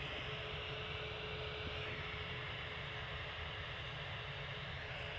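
An EasyJet airliner climbs away from Manchester Airport, heard as a faint, distant, even jet roar with a thin steady hum on top.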